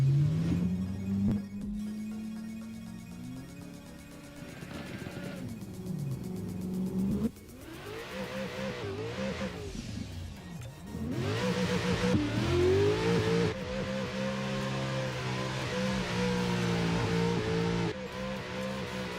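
A Mustang RTR drift car revs hard on a track during a drift competition qualifying run, its engine note climbing and falling in long, loud sweeps with bursts of acceleration.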